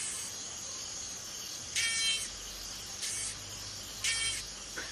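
High, hissing cicada buzz running throughout, with three louder pulsing bursts spaced a couple of seconds apart.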